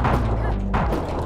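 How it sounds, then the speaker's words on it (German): Rocket launcher fire in the arcade video game Enyo, a loud booming thud followed by a second blast about half a second later, with a voice talking over it. "Deswegen liebe ich halt den Raketenwerfer hier in dem Level."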